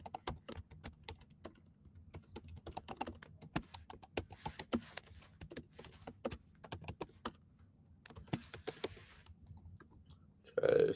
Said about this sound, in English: Let me quick get these plays typed up.